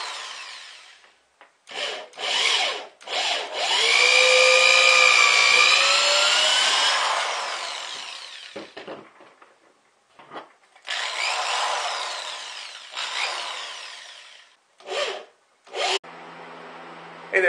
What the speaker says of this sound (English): finish drilling this second one out.